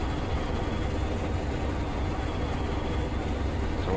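Steady close rumble of a Class 20 diesel train in Train Simulator Classic, heading from Stranraer Harbour to Dumfries, with a deep engine drone and constant rolling wheel noise that never lets up.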